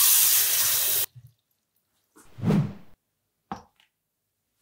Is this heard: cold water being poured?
yes